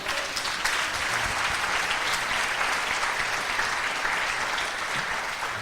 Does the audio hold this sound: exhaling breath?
no